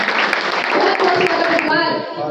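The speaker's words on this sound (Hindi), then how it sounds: "एक बार जोरदार तालियां सभी लोगों के लिए।" Strong applause from an audience at a New Year poetry gathering (kavi sammelan) in Kanpur, dense and continuous throughout, with a brief voice rising near the end.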